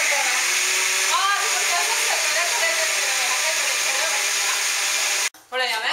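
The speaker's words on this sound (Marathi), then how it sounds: "आम्ही उद्दा घाल वाटू या सुरवे आम्ही मूग वाटू या" A mixer grinder grinds urad and moong dal in a kitchen. Its loud, steady whirring roar runs continuously, then cuts off abruptly near the end, when a voice is heard.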